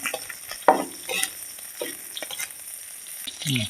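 Beef and dried chilies stir-fried in a hot wok with garlic, sharp spatula scrapes and clanks cutting over a steady close sizzle of oil, with short bursts of tossing.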